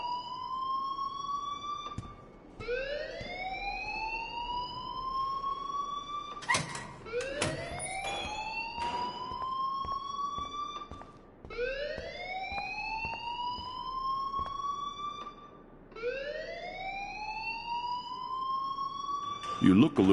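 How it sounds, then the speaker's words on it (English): A video-game alarm wails in repeated rising sweeps, each climbing in pitch and then cutting off, cycling roughly every four to five seconds with loud clicks and clatter between sweeps. "please turn off that alarm since that's your job"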